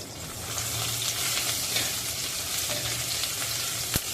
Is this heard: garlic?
yes